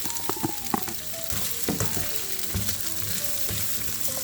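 Sliced onion hits a hot pan of chicken stir fry, setting off a loud, steady sizzle with scraping and clattering stirring knocks throughout.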